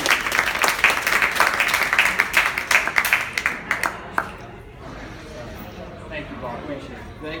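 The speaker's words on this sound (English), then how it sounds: "give them a round of applause for being here with us tonight" Audience applause at an arts and entertainment entrepreneurial society evening, steady crowd clapping that thins and fades out toward the end, with a little talk underneath.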